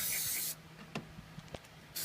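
Brake fluid cleaner sprays in two loud, hissing bursts while cleaning around a leaking gasket and seal on an INA 2.0 TFSI engine during a fuel pump lifter conversion, with soft clicks in the quiet gap between them.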